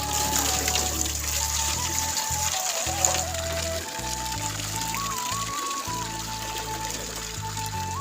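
Water is poured out as a bath for pet birds in sunny weather, a steady gushing splash that runs throughout under background music.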